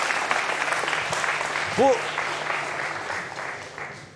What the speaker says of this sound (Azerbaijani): Bir alqış edək, özünüz alqışlayın.